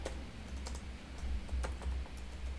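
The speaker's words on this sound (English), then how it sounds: "You are typing the new spot." Computer keyboard typing, a quick run of soft key clicks close by over a low hum, with no voices.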